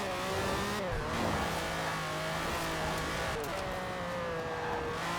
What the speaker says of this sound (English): It definitely doesn't sound like a modern engine.